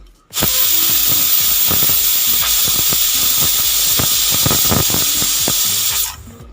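A pressure cooker whistle: a loud, continuous hiss of steam venting under pressure for about six seconds while cooking mango dal, steady and close, then cutting off abruptly.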